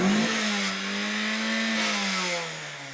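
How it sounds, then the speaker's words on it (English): A car engine revs hard while driving, its pitch climbing and holding as the throttle is pressed, loud and unbroken, with no voices. "When you hear the engine going, it's angry. You're making it really, really angry."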